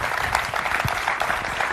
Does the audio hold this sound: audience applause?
yes